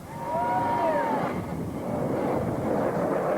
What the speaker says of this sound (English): fireworks every 500 metres along the Parramatta River, one after the other.